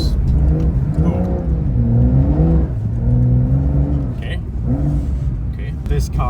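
Porsche 992 Dakar engine revving with rising and falling pitch as it climbs a mountain road through deep snow, loud and close, with people talking over it throughout.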